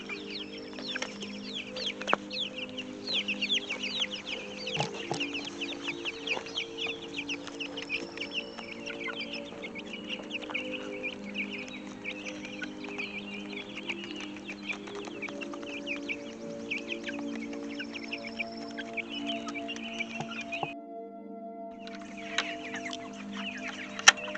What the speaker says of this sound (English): There you go, chickies.